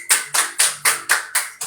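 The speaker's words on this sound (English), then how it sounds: "Please let's clap for her." Applause for Regina Robinson, publisher of Global Affairs magazine, sounds as seven crisp, evenly spaced hand claps at a steady rhythm, close and fairly loud, with no voices.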